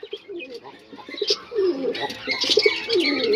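Fancy pigeons coo in low, rolling phrases, several overlapping, with a few light chirps of young and rustles nearby.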